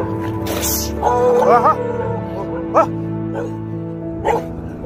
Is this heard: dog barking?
yes